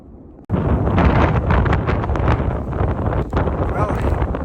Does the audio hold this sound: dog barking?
no